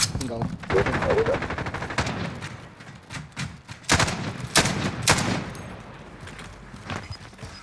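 Gunfire in the video game Call of Duty Warzone: repeated sharp bursts of rapid shots and single loud cracks, fairly close, over a steady game background, while players talk over the shooting.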